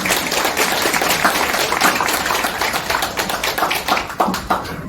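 Audience applause at a constitutional crisis symposium in Korea, a dense steady roar of hand claps filling the room for about five seconds, loud and continuous without speech over it.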